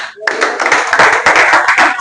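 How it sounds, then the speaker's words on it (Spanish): A church congregation breaks into clapping after a short quiet moment, a close, bright burst of many hands with an irregular rhythm that holds strong to the end. "vamos a darle un aplauso a Cristo"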